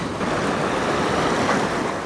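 Floodwater rushes over a low village bridge after heavy rain, a steady loud broadband roar of churning water that holds constant throughout with no pauses.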